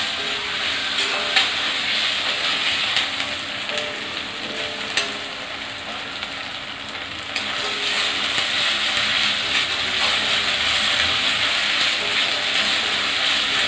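Sliced onions sizzle in hot oil with ginger garlic paste, stirred for a prawn gravy; a constant crackling fry with spatula scrapes, steady and close, no talk.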